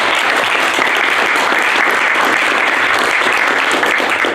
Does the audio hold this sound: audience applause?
yes